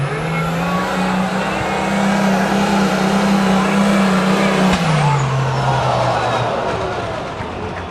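Diesel truck straining under load at a moonlight truck pull, a loud sustained engine drone that holds steady then drops sharply in pitch partway through as something gives, with crowd noise behind.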